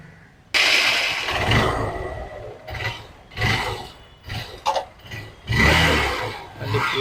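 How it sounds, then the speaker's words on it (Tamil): Honda Unicorn 150cc 2010 motorcycle, freshly repainted, starting up for a test ride: the engine catches abruptly and runs loud and close, with bursts of revving and brief dips between throttle blips. "வண்டி ஃபுல்லாக கண்டிப்பாக முடிச்சு ஓட்டி பார்க்குறாங்க"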